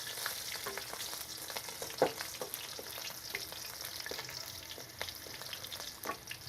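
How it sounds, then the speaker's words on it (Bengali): Three chillies frying in hot oil, with a steady crackling sizzle broken by repeated spatula stirs and taps, fairly quiet throughout. "মরিচটা ভেজে নিচ্ছি।"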